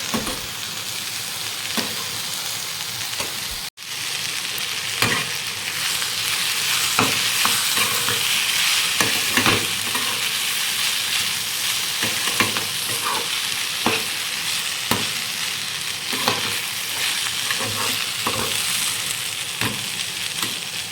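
Fried rice being stirred in a pan, with steady close sizzling and repeated scraping strokes of a utensil throughout, briefly dropping out once near the start.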